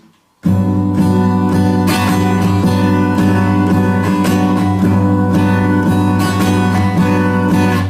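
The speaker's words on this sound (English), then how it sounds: "if you don't mute the strings by hopping with this hand, it'll sound like this" Loud, continuous guitar strumming with strings ringing freely, a dense wash of sustained chords with steady rhythmic accents and no pauses.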